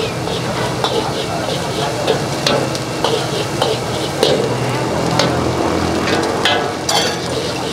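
Fried rice and noodles being stir-fried in a tossed pan at a Chinese-run eatery, a loud steady sizzle with scraping and clanking of the utensil against the metal, close up, while people talk.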